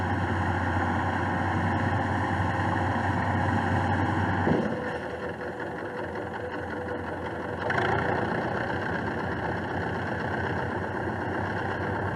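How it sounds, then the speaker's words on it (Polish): Diesel engine of over 100 horsepower in a Bizon Super combine harvester runs steadily with a low droning rumble, slightly dropping in pitch and load partway through, then picking up again, on soft wet ground. "Bizon Super wyposażony jest w wysokoprężny silnik o mocy ponad 100 koni mechanicznych"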